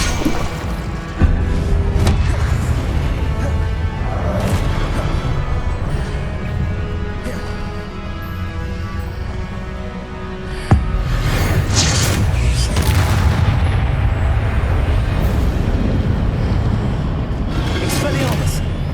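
Incendio fire spell cast repeatedly in Hogwarts Legacy, heavy whooshing bursts and thuds in a continuous loud game-combat mix with a sharp impact near the start and another near the middle, voices speaking over it.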